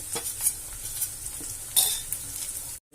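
A spoon stirs potatoes, green peas and grated ginger in a sizzling pan, with scraping strokes and a steady frying hiss, close and clear, ending in a brief silence.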